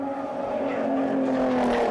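BMW touring race cars battle closely on a New Zealand race circuit, their engines blending into a steady, droning roar at a moderate distance, with no talk heard.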